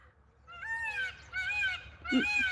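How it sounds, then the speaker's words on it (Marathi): Loud, nasal peacock calls repeat three times in quick succession outdoors, a honking, wailing cry. "मोरचा आवाज ऐका"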